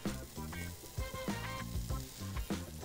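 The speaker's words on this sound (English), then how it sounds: "Once my butter is melted, I'll add in my flour." Melted butter in a medium pot over medium heat, flour going in for a roux, giving a soft sizzle under repeated rhythmic low thumps and clatter, faint and close.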